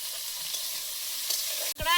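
Crab with spices sizzles steadily in hot oil, a bright continuous hiss filling the pan, then near the end a sharp knock and a brief low scrape as it is stirred.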